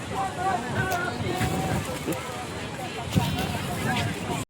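Cold sea wind blowing across a crowded Sunday seaside market in Porbandar, a steady rushing buffet over the microphone throughout, with someone talking over it.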